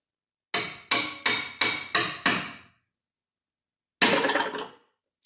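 A hammer tapping a chisel to split a bracket from a car panel during a tub kit install: six evenly spaced ringing metallic strikes, then a pause and a longer rattling burst, close and loud.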